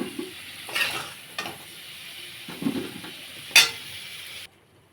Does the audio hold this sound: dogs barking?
no